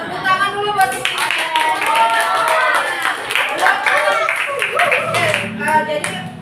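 Students in a classroom clap together at a teacher's prompt, a brisk, fairly loud burst of hand claps with children's voices mixed in throughout.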